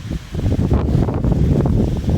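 Strong wind gusts batter a microphone outdoors beside a peepal tree on a cold day, a loud continuous rumble with rustling leaves, no talk.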